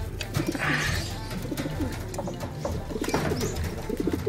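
Several pigeons coo softly nearby in low, rolling repeated calls, with faint rustling and background noise around them and no talking.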